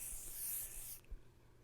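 A can of hairspray sprays a styled hairdo in one continuous faint hiss of about a second, then cuts off, leaving quiet room tone.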